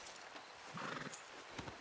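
A horse in the video game Red Dead Redemption 2 gives a short whinny mixed with a few soft hoof clops, fairly faint and close, with no speech.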